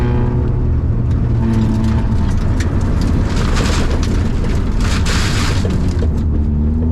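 A car's engine roars loudly and continuously as it downshifts into second gear for a corner during a handbrake turn, with heavy low rumble and rising and falling revs, very close.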